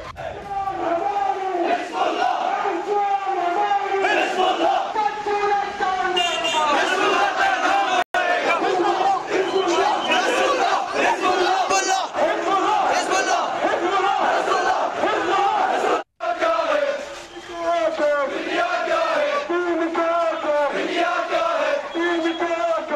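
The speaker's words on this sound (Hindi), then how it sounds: "छोटी छोटी बच्चियां हर घर से हिजबुल्लाह निकलेगा जैसे नारे लगा रही हैं" Young girls chant slogans in unison at a protest rally, a loud rhythmic crowd chorus repeating phrases continuously with brief breaks.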